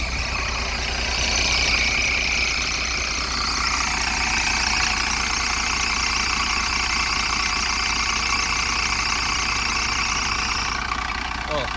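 A Solaris Urbino 12 II city bus engine from the Rzeszów municipal transport fleet idles steadily, a close, continuous low rumble with a faint high whine and voices talking over it.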